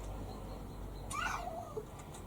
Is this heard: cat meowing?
yes